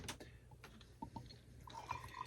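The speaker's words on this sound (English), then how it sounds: "Get a nice little pour." Kirkland Vintage Stout beer pours from a bottle into a glass, a faint gurgling trickle with a few soft drips and bubbling splashes that grow steadier toward the end.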